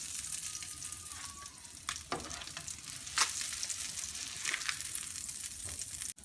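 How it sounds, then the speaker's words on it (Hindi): Fish sizzling steadily in oil on a flat tawa, Lahori style, a continuous close frying hiss with a few brief louder spits and scrapes, no talking. "ये देखें, इसी तरह हम दूसरी भी फ्राई कर लेंगे।"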